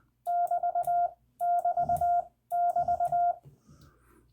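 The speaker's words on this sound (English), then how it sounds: "If you hear 3 hyphens spaced relatively evenly" Three evenly spaced bursts of a steady beeping Morse tone, each a run of quick dashes, clear and close, with faint noises between.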